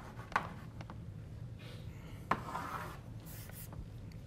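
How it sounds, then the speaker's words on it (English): Chalk or marker strokes on a lecture-hall board during a physics lecture, with short scratchy writing bursts and two sharp taps as the board is struck, fairly faint over a steady low room hum. "so I write it out."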